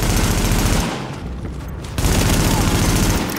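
Heavy automatic gunfire in The Division rattles densely and loudly, dipping into a brief lull midway before the volley resumes at full force.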